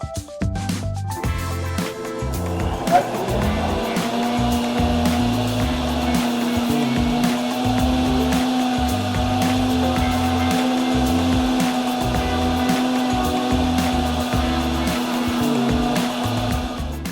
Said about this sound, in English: Just put them into a food processor or into a blender and get everything mixed up.